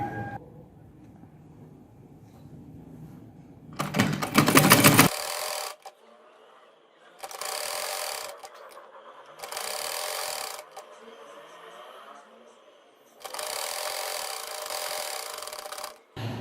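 An electric sewing machine stitches the cuff of a salwar in bursts: four separate runs of fast whirring, each lasting one to two seconds, with quiet pauses and light fabric handling between them.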